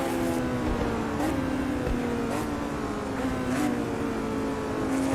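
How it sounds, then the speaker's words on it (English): A race car engine in Automobilista 2 holds a steady, high-revving whine with layered harmonics. It stays loud and close and continues without talk. "You forget how high this thing actually does rev."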